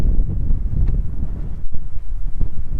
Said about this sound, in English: No joke, this is crazy windy up here.